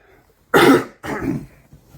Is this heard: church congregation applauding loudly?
no